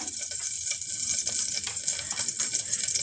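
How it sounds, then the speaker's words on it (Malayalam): Oil poured into a pressure cooker on a gas stove for uppumavu, a steady close pour with a bright trickling hiss over a few seconds and no talk. "ഒരല്പം എണ്ണ ഒഴിക്കാം"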